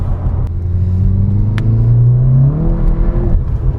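A 440 hp SEAT Cupra Leon accelerates hard with wheels spinning, its engine note climbing steadily in pitch, loud and close from inside the car, then dipping briefly before rising again.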